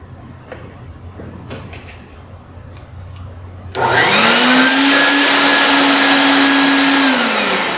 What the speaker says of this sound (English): I'm gonna go ahead and vacuum up the rest of it